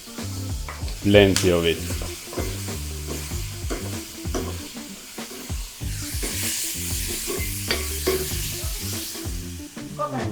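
Garlic goes into a frying pan with curry leaves and tomato, sizzling steadily while being stirred, with clatter of the utensil throughout; a voice speaks briefly over the cooking.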